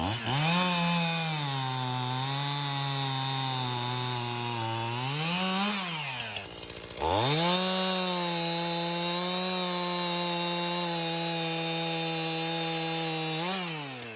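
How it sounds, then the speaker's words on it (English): A Stihl MS271 chainsaw cutting into a birch tree drones loudly at a steady high pitch, dipping and revving up under load, pausing briefly midway before resuming its cut. "We can really tell you that you did something to your chainsaw. Yeah, running great."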